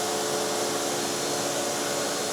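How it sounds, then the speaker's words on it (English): A Festool vacuum extractor and a vacuum pump run together in a workshop while a timber door panel is ply-moulded under a vacuum bag, giving a steady, loud whooshing hum with no talk. "We've got the Festool vac in there, which is getting rid of most of the air, and then we've got a vacuum pump"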